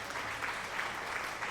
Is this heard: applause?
yes